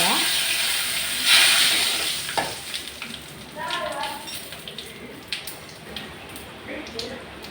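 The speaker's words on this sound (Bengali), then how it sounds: "তার মধ্যে আমি গোটা জিরা দিয়ে দিব" Whole cumin seeds sizzle steadily in hot oil with dried chillies, a continuous bright crackle and hiss close by that swells briefly near the start, with stirring knocks and faint talk underneath.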